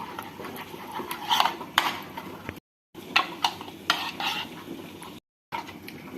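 Chicken pieces being mixed into a thick yogurt marinade in a bowl, wet squelching and scraping strokes with light clinks of a utensil, close and moderately loud, broken by two brief silent gaps.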